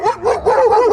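Big dogs bark outside near a bungalow compound in California, a quick run of close, loud woofs and yips with a whiny tone, with no voices.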